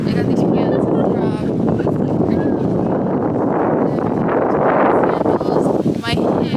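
Wind buffets the microphone on a boat tour in Chicago, a loud continuous rumble with people talking over it throughout.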